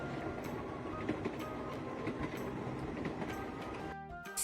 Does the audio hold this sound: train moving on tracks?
yes